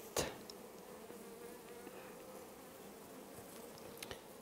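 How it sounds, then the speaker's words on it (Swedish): Honeybees crowd an open hive during a colony move, a low steady hum of many bees filling the background, faint and continuous, with a couple of brief sharper knocks near the start and end. "Här är tjockt med bin"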